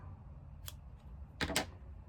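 Scissors snip through a strand of crochet yarn, a faint short click followed by a louder double cut, close and quiet over low room noise.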